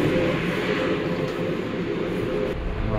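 RTD light rail train standing at a downtown station platform, a steady loud low rumble and hum of the train with faint background noise throughout.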